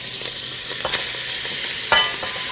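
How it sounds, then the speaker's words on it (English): Seasoned beef stirred in a soup pot gives a steady, close sizzle, with a couple of brief scraping knocks near the start and again near the end. No voices are heard. "Just give it a little stir"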